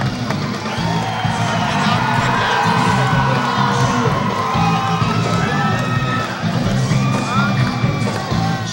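Loud, dense crowd cheering and shouting fills a cage-fighting event, a steady roar with whoops and yells rising and falling as a fighter jumps up on the cage.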